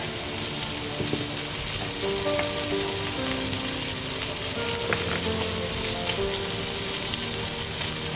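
Steak sizzling steadily in oil on a hot pan over high heat for a hibachi-style teriyaki, with a continuous close, loud frying hiss and no talking.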